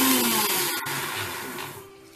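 A kitchen mixer grinder whirs steadily while grinding bread into crumbs, loud and close, its motor droning continuously with a brief stutter partway through before easing slightly in pitch toward the end, with no voice over it.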